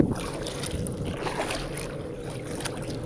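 Steady wind buffeting the microphone while pedaling a kayak in the Florida Keys, with a continuous roar and faint water splashes, no breaks over the whole stretch.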